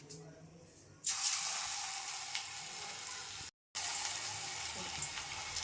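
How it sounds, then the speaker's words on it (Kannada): Battered baby corn pieces are dropped one at a time into hot oil on a low flame, bursting into a loud, steady close sizzle and crackle after a quiet start, with one brief drop-out midway. "ಇವಾಗ ಒಂದೊಂದಾಗಿ ಎಣ್ಣೆಯಲ್ಲಿ ಬಿಡೋಣ."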